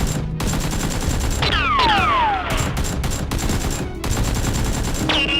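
Nerf toy guns fire in a play battle, making rapid bursts of popping and whizzing shots with sweeping whistle-like tones, loud and continuous throughout.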